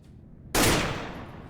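Gunfire in the video game The Watcher, a single sudden loud blast after near silence, decaying with a rumbling tail.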